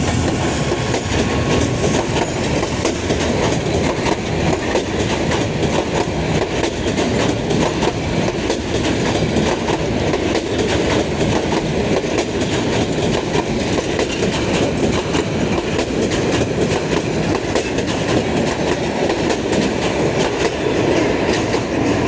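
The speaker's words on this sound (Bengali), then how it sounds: "পার হচ্ছে করতোয়া এক্সপ্রেস" The intercity Karatoya Express rolls past behind locomotive 3007, a 3000 series engine, in a loud, unbroken roar of wheels and wagons with steady clickety-clack over the rails, close by throughout and with no one talking.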